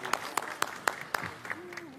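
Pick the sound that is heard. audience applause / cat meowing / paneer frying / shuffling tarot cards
audience applause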